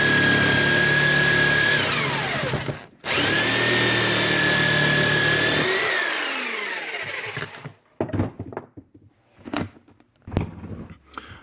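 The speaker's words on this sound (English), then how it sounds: "now we have our holes drilled" A power drill bores holes into a wooden leg for a fold-away camper bed: two loud whining bursts separated by a short pause, followed by scattered knocks and clatter of handling.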